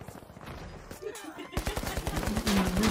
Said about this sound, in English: I hate this gun.